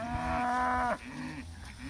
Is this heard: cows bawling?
yes